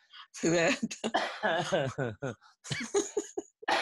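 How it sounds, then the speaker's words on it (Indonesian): A person coughs and clears their throat a few times, with bits of speech and a soft chuckle mixed in, close and fairly clear. "Sampai batuk-batuk"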